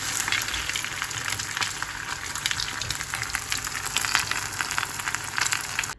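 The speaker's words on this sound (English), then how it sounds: "you stick them in the oil that's been heating up while you've been doing this" Stuffed bread pakoras frying in hot oil give a steady, dense sizzle with crackling bubbles, close and continuous throughout, with no talking.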